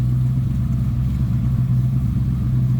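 A 1973 Ford Mustang convertible with an electric fuel pump idles steadily, its loud, low engine rumble close and even throughout, with no voices.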